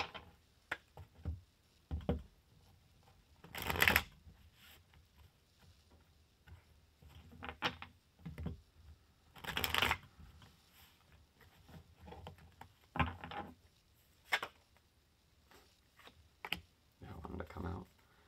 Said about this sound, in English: I'm going to do a little shuffling.